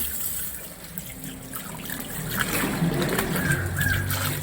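Water splashes and trickles over freshly harvested homegrown vegetables to rinse off the soil, a running, gurgling flow that grows a little louder and busier partway through, with no talk.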